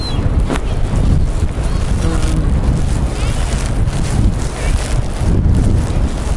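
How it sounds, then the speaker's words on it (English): Strong wind at the beach buffets the microphone of a Sony FDR-X3000 camera in a loud, continuous low rumble, with gusts swelling and easing throughout. "probably so windy, it wouldn't be fair to give a fair review to the microphone"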